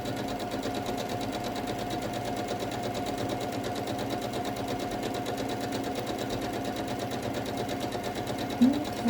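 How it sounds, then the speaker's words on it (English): A sewing machine runs steadily, stitching a quarter-inch quilt seam with a continuous, even mechanical hum and fine rhythmic chatter throughout, with a faint click near the end. "you should be able to sew straight down, and it will give you a nice 1/4 of an inch seam"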